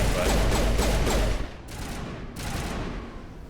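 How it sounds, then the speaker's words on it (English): Dense, rapid gunfire in Mass Effect rattles loudly for over a second, then thins into softer crackling bursts with a short return of shots. "Who the hell is shooting at me?"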